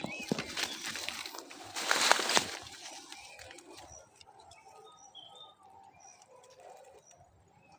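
Small wild songbirds chirp and call in the open during bird trapping, with a louder burst of chatter early on, then scattered faint tweets and coos at a distance.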